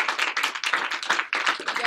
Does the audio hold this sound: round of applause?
yes